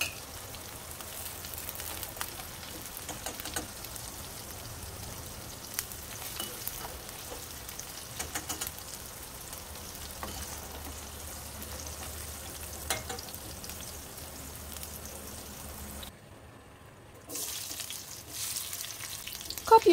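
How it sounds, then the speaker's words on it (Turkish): Red kapya peppers fry in a pan with a steady, dense crackling sizzle, broken by occasional stirring scrapes and a brief quiet gap near the end before the sizzle returns. "Kapya biberlerini kavuruyorum."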